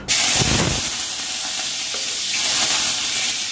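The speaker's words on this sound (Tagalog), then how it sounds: "I-gisa na natin yung bawang guys." Garlic sautéing in a hot pan, a loud steady sizzle with stirring scrapes near the start, continuing alone without talk.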